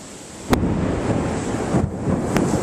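Blustery wind buffets an outdoor microphone in rough gusts over a rushing, rain-like wash, with a couple of sharp bumps standing out, loud and close, no speech.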